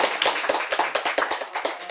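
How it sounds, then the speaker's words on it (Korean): Applause for a middle-school ethics teacher at a panel forum on gender-equality education: a small audience claps in an uneven, fairly sparse rhythm of distinct hand claps, close and moderately loud, for about two seconds with no talk. "네, 큰 박수로."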